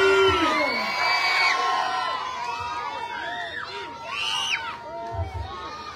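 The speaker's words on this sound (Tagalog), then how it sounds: "Sumigaw na lahat ng kakampi ni Mayor SB!" A crowd of supporters at a political rally shouts, whoops and cheers loudly and continuously, with a speaker's voice rising over the din.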